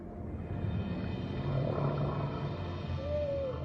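A humpback whale with its calf gives a long, gliding tonal call near the end, rising and then falling, over a steady low underwater rumble, with fainter moans drifting through the middle.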